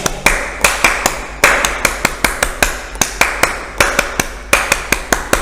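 A group does the Pramuka scout clap at a pioneering activity, loud and close, with sharp, crisp claps in quick rhythmic bursts separated by brief pauses.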